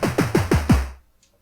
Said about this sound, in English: sounds like some toms now.